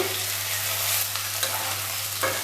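Young jackfruit for a poppy-seed dish fries in a pan and is stirred: a dense, continuous close sizzle with light scraping strokes of the spatula.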